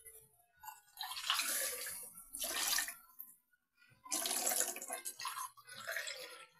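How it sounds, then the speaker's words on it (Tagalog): Broth being poured into a cooking pot in a few short splashy streams separated by brief pauses, close and fairly soft, with no talking. "Lagyan natin ng kunting sabaw."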